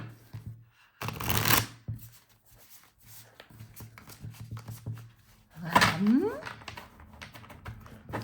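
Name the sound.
shuffling tarot cards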